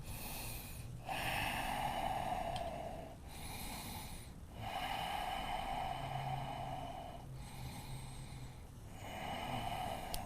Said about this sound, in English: Good, smooth, even breaths.